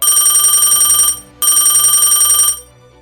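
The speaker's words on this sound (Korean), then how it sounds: "그때 그들로부터 다시 전화가 왔습니다." A telephone bell ringing as a sound effect in narration, two loud close rings of about one second each with a short pause between them.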